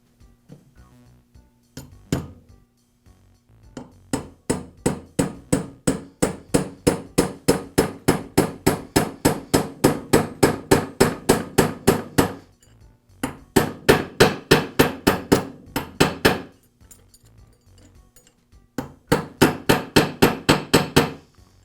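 A hammer taps a roll pin into a Senco nail gun during a driver repair. Several runs of rapid, metallic strikes come in quick, even bursts separated by short pauses, close and sharp.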